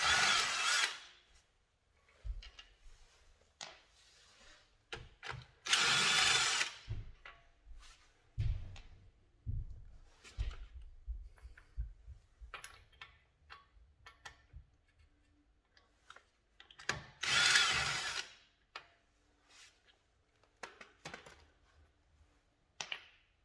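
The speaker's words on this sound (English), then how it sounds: "your drill with the 17mm socket and take off your lug nuts" A power drill fitted with a 17mm socket spins off car lug nuts during a brake pad job, in three loud whirring bursts separated by quieter clanks and handling noises.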